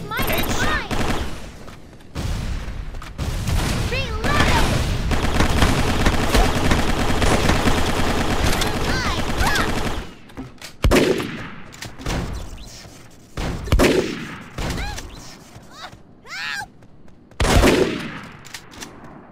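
Gunfire in MicroVolts Online, a long sustained stretch of rapid automatic shooting that later breaks into short separated bursts, loud and close, with voices speaking between the volleys.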